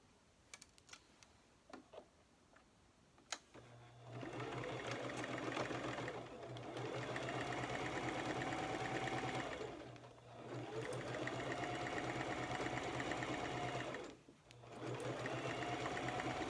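A sewing machine runs a quarter-inch seam in three sustained bursts of rapid mechanical stitching, with brief pauses between them, after a few soft handling clicks at the start.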